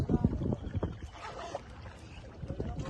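A small boat moving through floodwater in a submerged village near Cox's Bazar after days of rain, with soft sloshing and knocking of water against the hull; a voice comes and goes over it.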